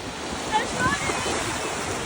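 Sea waves wash onto a Turkish shore as a steady broadband rush mixed with wind buffeting the microphone, fairly close and continuous.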